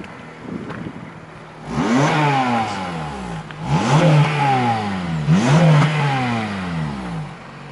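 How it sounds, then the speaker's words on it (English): A Honda Civic Type R GT with its 2.0 i-VTEC engine revs three times in quick succession, each loud rise and fall in pitch close by, the engine idling steadily between blips. "do a quick rev."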